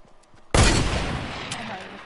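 Video game gunfire: one sudden, loud shot cracks out after a quiet moment and trails off in a long, rumbling decay.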